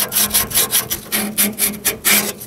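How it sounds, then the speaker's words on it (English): Sandpaper rubbed briskly back and forth over the mushroom-shaped ends of a metal rod on a car exhaust during muffler and tail pipe replacement, a steady run of about a dozen close, loud scratchy strokes. "I'm going to take a little bit of sandpaper and I'm going to clean off those kind of mushroom shaped ends"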